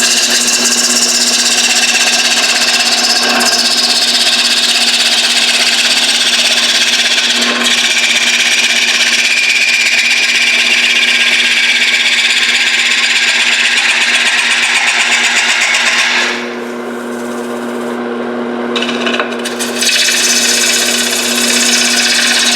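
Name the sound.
wood lathe turning a bowl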